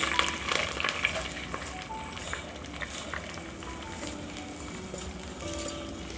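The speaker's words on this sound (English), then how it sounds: "Then I'll stir so that the spices from the cloves and cardamom can combine with my rice" Washed rice being stirred in a pot with whole cloves and cardamom, a low steady sizzle under irregular scraping and stirring clatter throughout.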